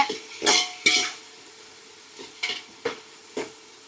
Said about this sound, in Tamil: வெங்காயத்தை போட்டாச்சு, நல்லா வதக்கிக்கோங்க